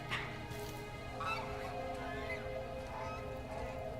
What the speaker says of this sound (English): Also, the, like, geese in the background.